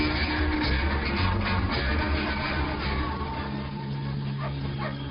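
A dog whimpers and yips in a film scene, soft barking and whining mixed with steady background noise and some talk, close and continuous for about five seconds.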